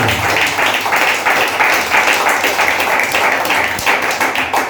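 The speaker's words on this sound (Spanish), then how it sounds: "Puede ser aplauso para él." Congregation at a Pentecostal church claps steadily for several seconds, a thick, even roar of hands with light tapping and a low musical hum beneath.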